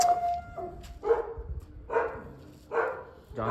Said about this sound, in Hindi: और आसपास बहुत सारे कुत्ते हैं, कुत्ते ही कुत्ते हैं.